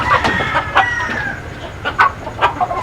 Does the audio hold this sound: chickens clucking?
yes